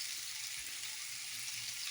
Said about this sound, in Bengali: লঙ্কা গুঁড়ো, নুন, ধনিয়া গুঁড়ো, জিরে গুঁড়ো সমস্ত কিছু দিয়ে ভালো করে কষিয়ে নেব।